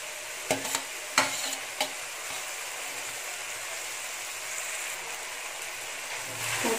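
Cooked rice being stirred into frying egg in a pan for egg rice, a soft steady sizzle with a few sharp scraping clatters early on, close and alone without talk.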